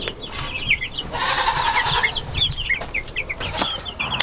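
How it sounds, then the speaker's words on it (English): Young chicks of two ages in a chick coop under heat lamps give repeated high, rapid peeping chirps, close and fairly loud, with a steady background hum and no talking. "in this chick coop, we have 2 different age chicks here"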